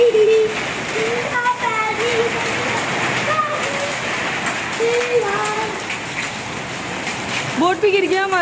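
Heavy rain pours down steadily with hail falling, a dense continuous wash of sound close by, while people talk and call out excitedly over it throughout.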